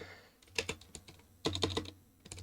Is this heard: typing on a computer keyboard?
yes